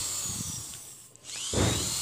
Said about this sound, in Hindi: मैंने अभी ड्रिल मशीन ले ली है फिर दरमियान में सारों के जिधर हमने मार्क किए थे सारों में होल कर देंगे